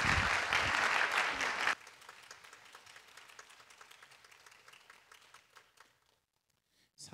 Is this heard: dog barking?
no